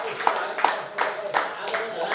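A few scattered hand claps ring out at a Nepali journalism award ceremony, sharp isolated smacks recurring at irregular intervals beneath a man's steady speech that carries throughout.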